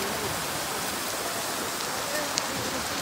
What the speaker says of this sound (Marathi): पाऊस नाही चालू आहे, ऍक्च्युअल मध्ये पाणी पडतंय धबधब्याचं